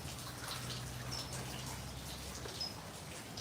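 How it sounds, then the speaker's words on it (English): Rain falls outdoors in Southern California as a soft, continuous hiss and patter of scattered drops, faint and close, with a couple of brief high chirps. "I'm out here in this rain."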